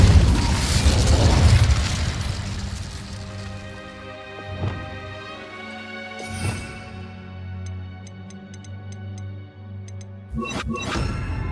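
Incendio fire spell cast in Hogwarts Legacy, heard as a few sudden whooshing bursts and booms spaced several seconds apart over a steady layer of game music and ambience.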